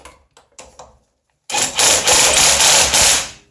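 A Ryobi battery-powered impact gun snugs down nuts. A few short knocks come first, then a brief pause, then a loud, close burst of rapid pulsing hammering that lasts about two seconds.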